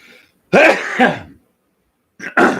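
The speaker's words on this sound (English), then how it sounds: "I got to sneeze here." A couple of sharp, explosive bursts from one person close by, a sneeze or throat-clearing fit, separated by a short silence.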